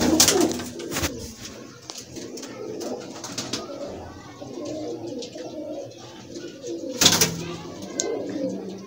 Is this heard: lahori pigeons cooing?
yes